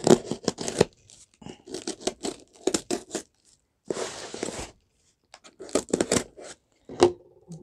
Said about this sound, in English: Get my trusty scissors to open tape.